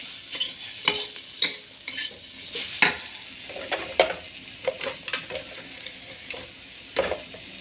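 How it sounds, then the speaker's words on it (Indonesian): Oncom leunca stir-fries in a pan while a utensil stirs and scrapes through it, giving repeated short clinks and scrapes over a soft, steady sizzle, close and fairly quiet. "Aduk-aduk sampai benar-benar wangi, merebak."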